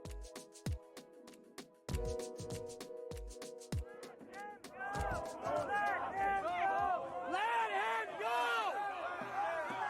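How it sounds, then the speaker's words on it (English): Street protesters try to free someone from police custody, a scuffle of scattered sharp thuds and shouts at first, then a dense crowd of overlapping yelling voices that grows loud and chaotic. "That's the sound of protesters attempting a de-arrest"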